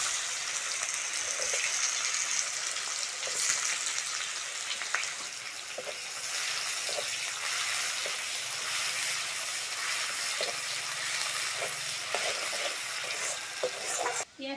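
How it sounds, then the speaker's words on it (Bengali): Chopped onions sizzle and fry in hot oil with a little sugar for a stingray fish curry, a steady close crackle broken by occasional stirring scrapes. "পেঁয়াজটা বেশ লাল লাল করে ভেজে নিয়েছি।"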